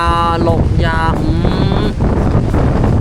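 Strong wind roars and buffets the microphone continuously while a voice exclaims loudly over it.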